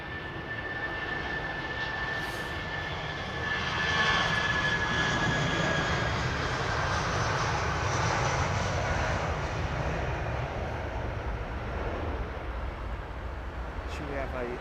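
Jet engines of a Boeing 777 airliner rumble steadily at London Heathrow Airport on a foggy day, a continuous broad roar at moderate distance, with people talking over it.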